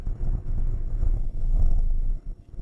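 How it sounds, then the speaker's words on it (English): The small three-cylinder engine of a Peugeot 508 PureTech 130 hums steadily at low pitch, a continuous throbbing drone with road rumble, no voices. "the distinctive sound of this small 3-cylinder engine."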